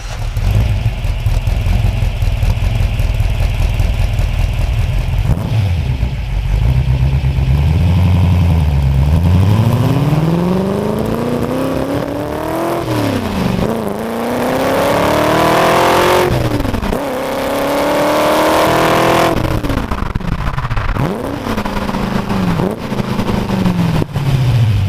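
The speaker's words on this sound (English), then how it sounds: "It's got 4 two-barrel downdraft Weber carburetors on it, so you get this real kind of classic, vintage, clack sound when you get on the throttle." A Ford GT40 endurance racing car engine fed by four two-barrel downdraft Weber carburetors revs repeatedly, loud and close, its pitch surging up and dropping back over a rough idle in several throttle blips, with no voices.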